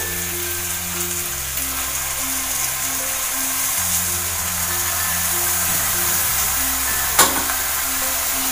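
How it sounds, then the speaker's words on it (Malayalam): Half a kilo of washed mutton sautéing in a pan for mutton curry gives off a steady, close sizzle with a low humming drone beneath and a brief knock near the end. "ഇതിലേക്ക് കഴുകി വെച്ച് അര കിലോ മട്ടൻ ഇട്ടെടുക്കുന്നുണ്ട്"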